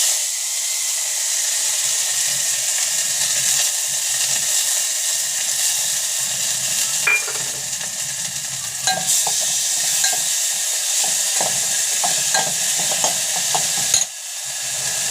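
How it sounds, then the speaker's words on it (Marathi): Moong dal sizzles and fries in a pan with mustard seeds, cumin and garlic, a steady hiss broken by scraping stirs that grow busier toward the end, with no voices. "मुगाची डाळ टाकून घेतली"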